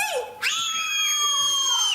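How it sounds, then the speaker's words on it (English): One loud, sustained, high-pitched human scream on the count of three, opening with a short cry that dips, then rising sharply and holding steady until it cuts off. "they would scream, the loudest scream you ever did hear"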